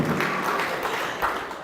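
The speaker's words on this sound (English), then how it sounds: "That needs a round of applause." Brief, moderate applause from an audience at a book launch celebrating a nearly 36-year marriage, a short patter of clapping that stays fairly even and soft throughout.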